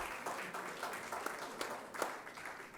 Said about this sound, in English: once we start to clap and to clap and to clap.